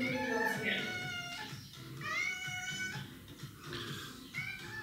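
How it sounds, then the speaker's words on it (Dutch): A cat meows repeatedly, several drawn-out, wailing cries close by, with pauses between them. "dan is het wel een poes die jankt"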